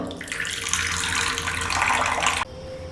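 Pouring a little water from a tap or jug into a bowl of spice mixture with chilli powder, a steady splashing stream lasting over two seconds before it cuts off, close and fairly loud.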